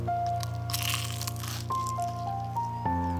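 Crispy salt-and-pepper fried oysters crunch as they are bitten into, a close, soft crackle of the battered shell over a steady background of sustained musical tones.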